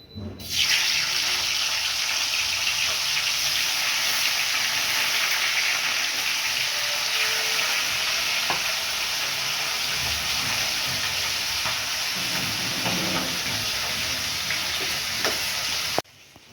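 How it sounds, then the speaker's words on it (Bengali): Fish heads frying in hot oil in a wok give a loud, continuous crackling sizzle that begins abruptly, holds steady for about fifteen seconds with occasional pops, and then cuts off. "মাছের মাথাটা আমি ভেজে নিচ্ছি।"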